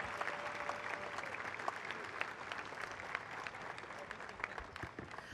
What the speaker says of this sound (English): Could we get another round of applause?